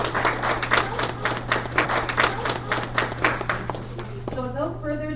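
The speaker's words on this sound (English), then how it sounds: "Can we give a round of applause for all these ladies this evening?" Clapping from an evening audience honouring a group of women, a steady crowd patter filling the room until it fades out near the end, when a voice starts to speak.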